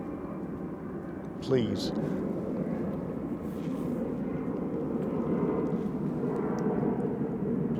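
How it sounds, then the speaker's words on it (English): Aeroplanes fly over a graveyard, making a steady low rumble that fills the whole stretch while a person talks briefly nearby. "Bloody aeroplanes."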